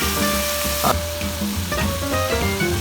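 Chicken noodles with soy sauce, about 500 grams, stirred in a hot pan, giving a loud, close, continuous sizzle with scraping and tossing of the utensil and no talk.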